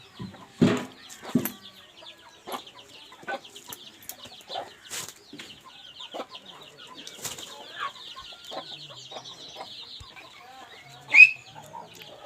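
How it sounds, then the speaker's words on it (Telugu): Hens of a short-beak, long-tail fowl breed cluck softly and intermittently nearby, with scattered faint calls and a brief louder squawk near the end in an otherwise quiet farm setting. "పెట్టలు కూడా చూపిస్తాను ఇప్పుడు మీకు రెండు పెట్టలు"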